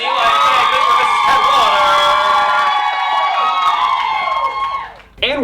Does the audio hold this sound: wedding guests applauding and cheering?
yes